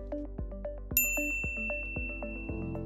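A bright, bell-like ding rings out among a sequence of soft chiming tones, each note clear and decaying quickly.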